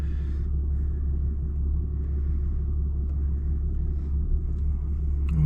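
Four-wheel-drive vehicle towing a trailer through a dip in the Arizona desert, a steady heavy engine rumble close by with a slight surge near the end, no voices.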